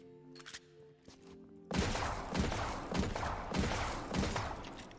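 A weapon fires in the video game Destiny 2, a series of about six evenly spaced, punchy shots after a few quieter clicks, each blast ringing out over a steady din.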